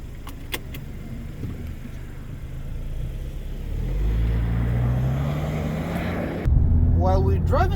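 A 2019 Mazda 3 sedan with a 165 hp engine cruises at low revs, a low, quiet engine hum and road rumble that gradually swell slightly; brief clicks early on, and a voice speaks near the end.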